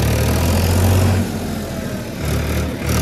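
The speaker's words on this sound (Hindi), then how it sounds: "अभी ट्रैक्टर चला रहा है" Tractor on a farm field: a loud, steady mid-pitched engine drone that drops in level after about a second, then rises again before stopping abruptly, with no talk.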